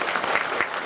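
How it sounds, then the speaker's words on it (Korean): A brief burst of audience applause at a Seongnam smart city forum, many hands clapping steadily and close, with no voices over it. "다시 한번 박수 부탁드립니다."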